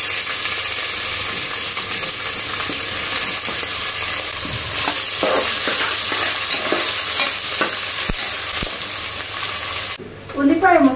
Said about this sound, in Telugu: ఇప్పుడు అందులో కట్ చేసి పెట్టుకున్న ఉల్లిపాయ ముక్కలు వేసుకోవాలి.